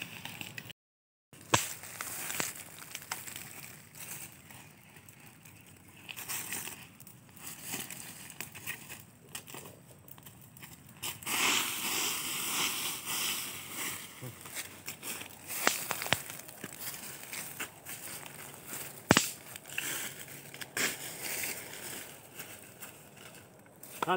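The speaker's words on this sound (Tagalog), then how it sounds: "Yan, mga idol, malakas na yung apoy niya." Fire catching and crackling on a freshly lit grill used for roasting gayubano, irregular pops and crackles building louder after the first seconds, with scattered brief sharp snaps throughout.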